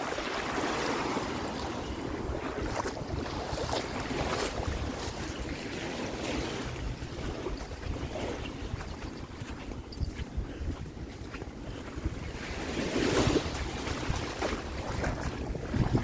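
Ocean ambience on a Hawaiian shoreline: rolling surf and gusting wind buffet the microphone in a continuous rough roar, swelling and easing, with a louder surge near the end.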